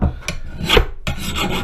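An axe file rasps across a steel axe blade in a few short, gritty strokes, close and fairly loud, with small gaps between passes.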